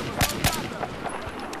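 Sharp gunshots crack in Battlefield 4, two close bursts near the start and scattered fainter shots after, brief and punchy against background game noise.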